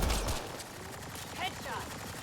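A gunshot headshot in Mass Effect Andromeda: a sharp low thump at the start, then sparse game effects and faint chatter, with a player speaking briefly over the scene.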